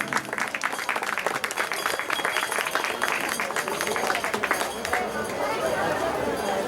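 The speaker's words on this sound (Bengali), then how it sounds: "একটা জোরে হাততালি দেবে।" Loud, sustained applause from an audience at the prize-giving ceremony on the final day of a science exhibition, steady clapping with crowd chatter mixed in throughout.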